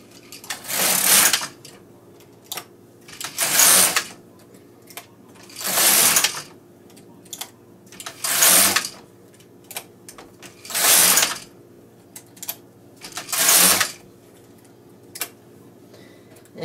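A Bond knitting machine carriage drawn back and forth across rows of a double-layer slipper, six loud rasping sweeps at a steady pace with small clicks and taps between them.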